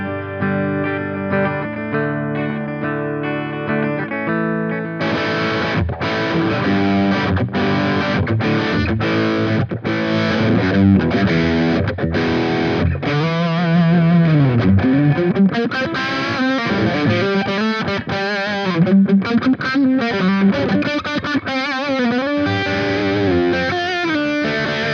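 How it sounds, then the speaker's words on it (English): Electric guitar through a humbucker pickup, played clean with no pedal: sustained ringing chords give way to busy strummed and picked passages, steady and loud, with no talking. "Clean sound without pedal."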